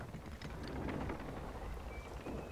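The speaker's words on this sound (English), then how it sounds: "The rain's still following." Dense, steady rainfall with a low rumbling wash beneath, from a rainstorm in the pirate game Sea of Thieves, constant throughout.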